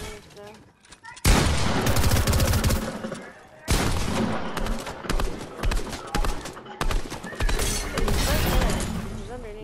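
Heavy gunfire in a team battle video game erupts in dense, loud bursts that stop briefly and then resume, with overlapping shots and players talking over the action.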